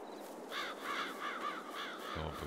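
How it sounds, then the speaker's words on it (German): Startled birds in the video game Farming Simulator 22, a flock of crows giving repeated harsh caws in quick bursts, moderately near over a steady low background hum. "Da haben ein paar Vögel aufgescheucht."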